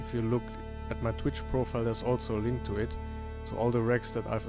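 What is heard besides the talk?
No everyday noise stands out behind the speech.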